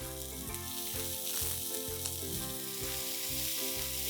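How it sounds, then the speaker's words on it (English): Finely chopped onion and capsicum sautéing in a pan for amaranth masala upma, a continuous dense sizzle heard close up, under steady background music, with no talking. "Saute these two ingredients for about 2 minutes or till the onions soften."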